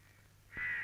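A crow gives a single short caw, fairly close and clear, over quiet background noise in an outdoor scene.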